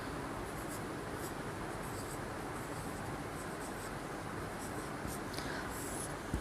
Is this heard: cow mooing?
no